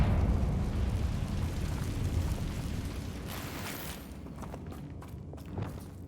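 Confringo fire spell blasting in Hogwarts Legacy, a low rumbling burst that rolls out and fades, followed by scattered crackling debris and light impacts, with no talk.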